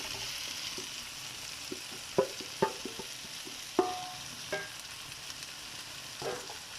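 Fried paneer goes into a chilli paneer sauce in a pan, which sizzles steadily throughout while a spatula clinks and scrapes several times at an uneven pace, close and clear with no talking.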